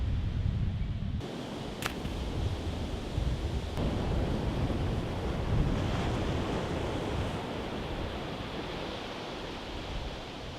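Ocean waves wash onto a beach in Costa Rica in a constant, hissing rumble of surf, mixed with wind buffeting the microphone. It stays loud and steady throughout, with no talking.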